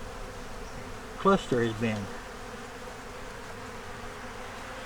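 Honey bees hum in a hive cluster holding a yellow queen, eggs, brood and stores, a steady low drone running through the whole stretch while someone speaks briefly near the start.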